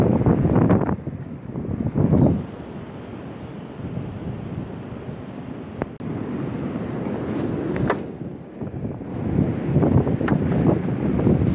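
Strong wind buffets the microphone in heavy, rumbling gusts, roaring louder at times and easing between, with no voices, at a fossil-hunting site in Mazon Creek, Illinois.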